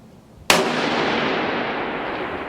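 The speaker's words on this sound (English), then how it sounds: "First time I've ever fired this rifle." A single sharp rifle shot from a Wheaton Arms custom precision rifle in 6.5 Creedmoor, fired on a long-range 1,000-yard course; one loud close crack followed by a long rolling echo, no talking.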